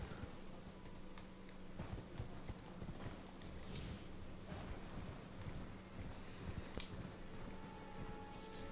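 Steady rhythmic hoofbeats of a galloping horse in the video game Elden Ring, continuous and fairly close, over a constant low hum and faint background noise.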